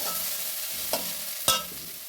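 Onions softening in hot oil with crushed ginger and garlic for a Kerala-style egg curry masala, a steady close sizzle broken by two sharp stirring scrapes of the spatula.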